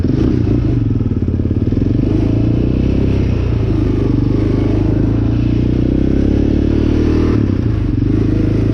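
Yamaha Raptor 700R sport quad engine running steadily while riding on a desert-to-mountain trail, a loud, close, continuous rumble with rattling and clatter from the machine, no talk.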